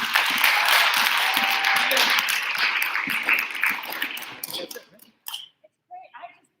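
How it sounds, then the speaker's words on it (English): Audience at a Poetry Out Loud contest gives a round of applause for the contestants, a loud burst of clapping that thins out and fades into scattered claps and quiet by the end. "Let's one more round of applause for everybody."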